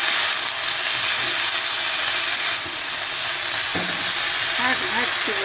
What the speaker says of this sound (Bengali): শাক ভাজছি বন্ধুরা।